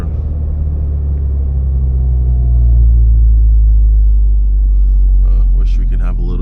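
A Honda Integra's four-cylinder exhaust rumbles low and steady in slow traffic, a continuous deep drone that swells slightly midway, with faint voices near the end.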